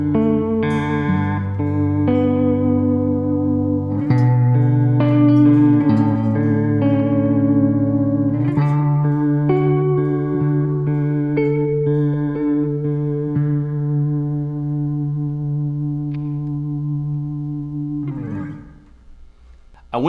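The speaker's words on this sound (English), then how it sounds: "So for this patch, I went with the stereo retro real block, and it sounds something like this." Electric guitar through an HX Stomp stereo retro reel block, giving a tape-style vibrato wobble to strummed chords and single notes that ring out and sustain, then fade at the end.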